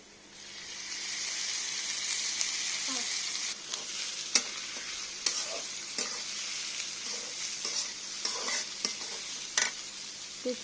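Onion and garlic frying in hot oil in a wok give a steady, close sizzling hiss for the whole stretch, broken by occasional soft clicks and scrapes of stirring.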